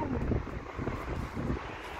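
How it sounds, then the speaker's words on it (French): Wind gusts into the microphone outdoors near a parking area, a rough rumbling roar that swells and eases in waves, with no speech over it. "Il y a du vent là."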